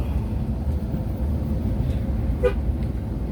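Short vehicle horn toot sounds once amid the low rumble of traffic on a winding hilly road to Gunung Jempol in Lahat, Indonesia, fairly faint against the engine noise.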